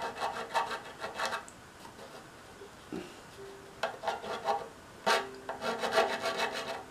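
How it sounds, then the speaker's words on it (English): A hand file rasps against sharp metal fret ends on a Kmise tenor travel ukulele, coming in short bursts of scraping strokes with brief pauses between them, close and fairly quiet. "You can find a file somewhere, or a certain kind of sandpaper would probably work, and just file them down."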